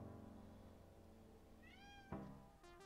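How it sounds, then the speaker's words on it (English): A cat meows at a door, faint and distant behind a steady background hum, with a rising drawn-out meow followed by a short sharp one and the start of another. "He's meowing at my door and it's annoying."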